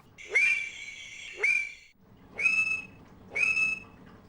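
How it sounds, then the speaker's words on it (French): Mating calls of West African Conraua alleni frogs from Sierra Leone: four separate whistle-like calls, each a brief rising sweep into a sustained tonal note, evenly spaced about a second apart, clear and fairly near with no talk. "Nous entendons maintenant les chants d'accouplement de ces deux populations"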